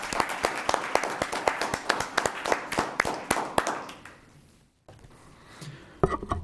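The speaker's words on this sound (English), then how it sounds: "If we would like to give him a round of applause." Applause from a council chamber audience welcoming a new council member, a dense burst of many hands clapping for about four seconds, then fading into room quiet with a faint thump near the end.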